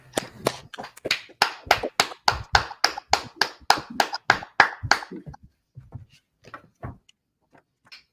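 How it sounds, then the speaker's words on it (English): A crowd of hands clapping in a steady rhythm, fairly close, then the clapping thins out into a few scattered claps before stopping. "Clap it up."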